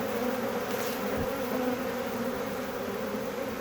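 Honey bees buzz in a steady, continuous drone, fairly close, with no talking, as newly split colonies walk into a hive in a bee yard.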